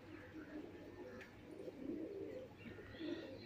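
Pigeons coo softly in low, rolling murmurs, several overlapping calls, faint and fairly close, with light chirps around them.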